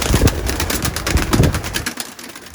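White pigeons coo softly in a low, rolling rhythm as they are let out of their coop, several birds close by with faint rustling around them.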